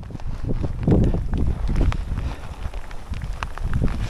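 Strong mountain wind gusts buffet the microphone in loud, uneven low rumbles during a stormy night hike on Gunung Buthak, with no speech.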